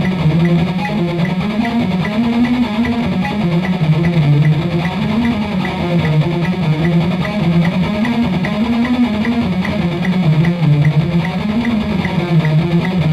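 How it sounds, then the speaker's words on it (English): A distorted electric guitar plays a metal practice line, each note picked twice in fast, even sixteenth notes, looping steadily and loud on its own. "so now I'm going to be banging on each note 2 times in 16ths"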